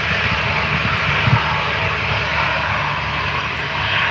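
A Velocity 512 airliner taxiing out at Gold Coast Airport gives a continuous, loud, broadband engine roar that stays fairly even throughout, heard alone without talk.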